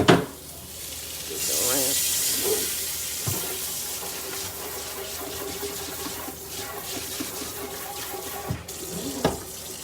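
Meat browning in a pan, a steady close sizzle running throughout with occasional clatter of utensils and sharp knocks, water-like hiss rising and falling, no talking.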